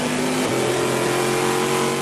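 A race car's aluminum-block, titanium-valve V8 at full power, a loud continuous engine roar with a steady high drone and a slight pitch shift partway through, with no talking.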